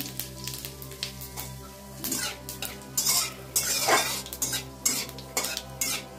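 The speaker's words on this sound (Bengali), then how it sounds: "জিরে, শুকনো লঙ্কা, তেজপাতা ফোড়ন দিয়ে এবার একটু ভাজা ভাজা করে নিচ্ছি।" Cumin seeds, dry chili and bay leaf sizzle in hot oil in a kadai, with close, uneven bursts of spoon stirring and metal scraping over a low hiss, backed by faint music.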